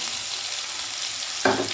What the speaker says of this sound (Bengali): আমি পেঁয়াজটাকে একটু হালকা ভাজা ভাজা করে নিচ্ছি।